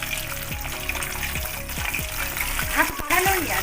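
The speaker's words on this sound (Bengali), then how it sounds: "ভাজা মাছগুলো একবার তো ভেজে নিয়েছিলাম," Amodi fish pieces fry a second time in hot oil, giving a loud, constant crackling sizzle close by, with a few scraping stirs of the spatula and no one speaking.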